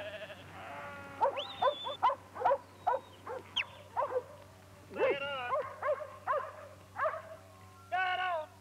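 A working sheepdog barks in a string of short, sharp, close yelps with whimpering whines between them, loud and alone over a low steady hum.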